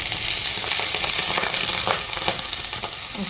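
Vegetables for a jackfruit sabji fry in hot oil with a loud, continuous sizzle and crackle, close up and steady, with occasional pops and stirring sounds and no talking.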